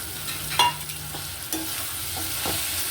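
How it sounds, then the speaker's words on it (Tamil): Okra and onions sautéing in a pan, a steady close sizzle with a few scraping stirs and a sharp clink near the start, no voices. "இப்போ வெங்காய வெண்டைக்காய் வந்து நல்லா வதங்கணும்"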